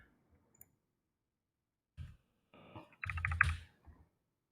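Keys clack on a computer keyboard in a few quiet, scattered bursts of clicks separated by silence, close and faint with no talking.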